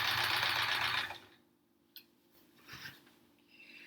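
Sewing machine stitching a Triangle Tango quilt top, a loud steady run for about a second that then stops, followed by faint handling and rustling of fabric.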